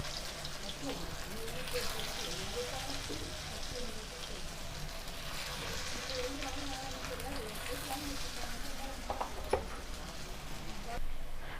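Elephant foot yam slices fry in hot oil with a steady, dense crackle and patter of bubbling throughout, a few sharper pops near the end, and faint voices murmuring beneath.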